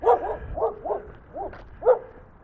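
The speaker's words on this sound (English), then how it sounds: "there's a dog." A dog barks about five or six times in short, uneven bursts over a couple of seconds, fairly close and clear against a quiet outdoor background.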